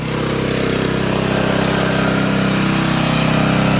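A Kubota engine-driven pesticide spray pump runs steadily, a loud continuous engine drone with rapid regular pulsing, close and without talk.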